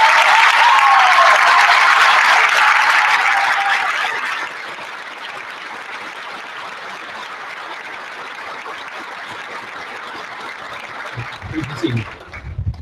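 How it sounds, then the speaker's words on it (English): Loud applause from a high school graduation crowd honoring faculty, steady for about four seconds, then easing into softer sustained clapping, with brief low rustles and murmurs near the end. "Please join the class of 2016 in a well-deserved round of applause for these educators."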